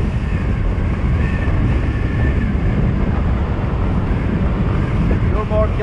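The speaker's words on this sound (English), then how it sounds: "If only this wind would die down." Wind roars against the microphone during a ride on a 2021 SYM Symphony ST 200 scooter, a loud, steady low rumble blended with engine and road noise.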